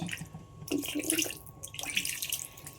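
Water poured from a glass into a pan of fish curry, a close splashing, running pour in two bursts with a short pause between, heard alone without talk.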